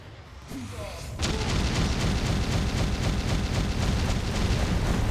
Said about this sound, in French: Ouah, violente l'explosion